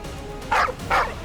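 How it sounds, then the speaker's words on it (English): A dog gives two sharp, close barks about a third of a second apart, loud and clear over a quiet background. "her dog barked in confusion"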